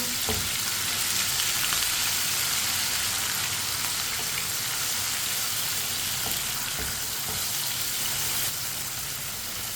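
Rajma masala with chopped tomatoes, green chillies and crushed ginger cooking in a pan while a spoon stirs it, a steady, even sizzle and fry noise with occasional soft scrapes and taps, continuous and unaccompanied by talk.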